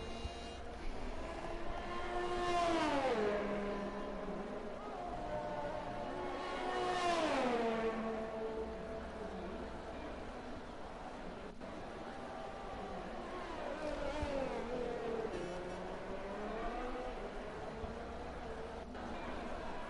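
Ferrari Formula 1 car in an F1 racing game at the Brazilian Grand Prix, engine whining up and down through gears in two strong sweeps then fainter later, under steady commentary talk.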